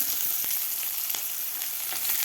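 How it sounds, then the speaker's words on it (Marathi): Onion sautéing in hot oil with green chillies in a pan, a steady close sizzle with brief stirring scrapes, loud and unbroken, no talking. "कांदासुद्धा आपल्याला व्यवस्थित परतून घ्यायचा आहे"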